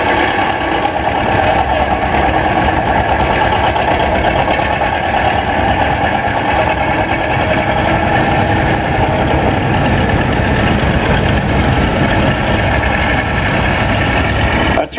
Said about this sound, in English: The 56 Model 70 diesel owned by DJ Martin and driven by Terry.